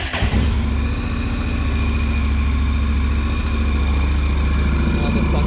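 A Honda NC750X motorcycle, stored all winter and just started, runs with a steady, loud, low-pitched engine drone close by that holds evenly throughout.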